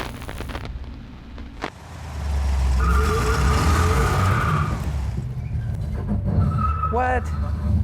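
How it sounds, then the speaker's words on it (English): A high, sustained brake squeal from a 1970 Plymouth 'Cuda 383 rises over its loud, rumbling engine, fades, then returns briefly near the end, with people's voices mixed in. "Sounds like the brakes."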